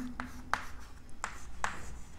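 Marker or chalk writing on a board for a bank reconciliation lesson, heard as a few short, separate scratchy strokes at a steady spacing, fairly quiet against a faint background hum, with no talking.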